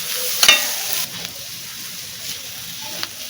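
Onions stirred in a pan with Kashmiri chilli powder and a little salt, a soft scraping sizzle with one sharper scrape near the start, steady and close with no talk.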